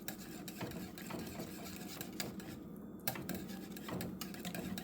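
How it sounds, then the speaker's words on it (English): Cake ingredients for a lemon cake are whisked together in a bowl, a faint, steady rhythmic clatter and scraping of a whisk against the bowl, repeating for several seconds. "I'm going to whisk all these ingredients together"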